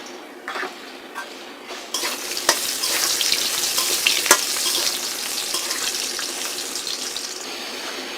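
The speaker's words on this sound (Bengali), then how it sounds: "আমি যে আলুগুলো কেটে রেখেছিলাম সেগুলো ভাজবো হালকা ব্রাউন করে।" Cut potatoes fry in hot oil until light brown, with a loud, steady hiss that starts quietly and then swells. A few sharp clinks of a utensil against the pan are heard, and nobody speaks.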